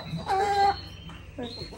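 Chicken clucking at close range during a visit to a grandmother's farm, a few short tonal clucks in quick bursts over quiet background.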